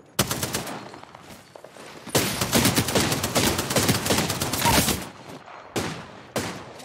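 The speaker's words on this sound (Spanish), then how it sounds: "me suenan los disparos como que estoy dando" Gunfire in the Apex Legends video game, a quick single shot followed by loud sustained bursts of rapid automatic fire, then a few more short volleys, heard close and without talk.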